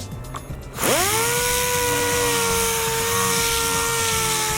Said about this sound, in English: I'm now sanding it with 80 grit.